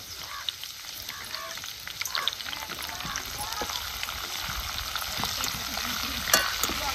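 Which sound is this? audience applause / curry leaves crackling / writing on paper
curry leaves crackling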